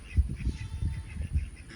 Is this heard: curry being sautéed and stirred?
no